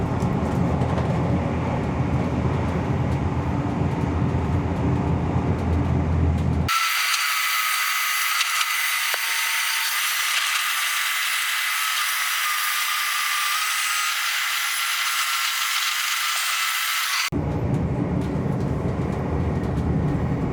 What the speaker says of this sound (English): running on electric mode, so you can only hear the motor sound and some other facility sound on board, but no engine sound